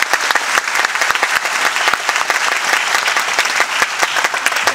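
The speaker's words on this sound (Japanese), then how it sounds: "今一度大きな拍手をお願いいたします。" Loud, dense applause from a hall audience at a one-day police chief traffic safety ceremony in Urawa, steady clapping filling the whole stretch with no voices over it.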